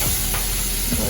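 Chicken fajitas sizzling loudly in a hot skillet while being stirred, a steady close crackle with brief scraping strokes of the utensil through the meat.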